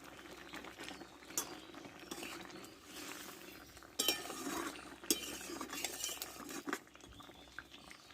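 A pot of water with badi, brinjal and potato bubbles on the stove, a steady low simmer with occasional clinks of utensils against the pot, close and quiet.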